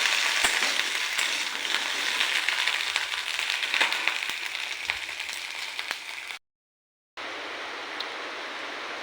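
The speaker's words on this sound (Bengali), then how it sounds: "আগে ঢেঁড়সটাকে তেল দিয়ে হালকা হালকা করে ভেজে নিচ্ছি।" Home-grown okra lightly frying in oil in a wok: a dense, loud, even hiss of sizzling close up with faint occasional stirring ticks, briefly cut to silence before the sizzle resumes, with no talking.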